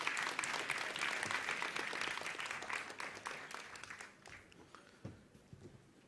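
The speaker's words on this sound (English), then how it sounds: "Okay, round of applause, Slava, stay." Conference audience at a startup summit applauding, a dense wash of clapping that holds steady before thinning out into scattered individual claps toward the end.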